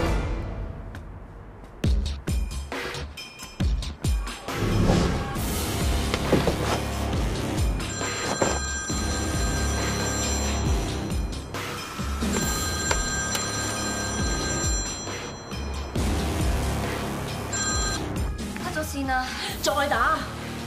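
A telephone rings over an outgoing call in a comedy drama. Repeated electronic ring tones sound in regular bursts, while voices talk loudly over the line and background scoring.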